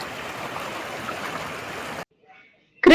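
Ash pond water from a thermal power station flows into the Krishna river near a bridge, a steady rushing wash for about two seconds before cutting off abruptly.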